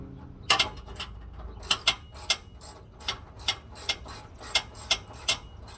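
A ratchet wrench works a bolt on a truck frame bracket, giving a steady series of sharp, close metallic clicks at an even pace, with no talking.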